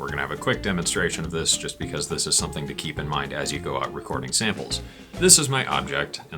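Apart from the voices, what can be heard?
None of the usual background noises is heard.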